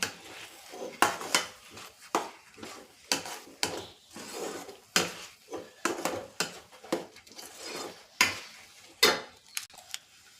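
A spoon scrapes and clatters against a pan again and again while sweet potato and carrot halwa is stirred in ghee, in a brisk, uneven rhythm of loud close strokes with a faint sizzle between them.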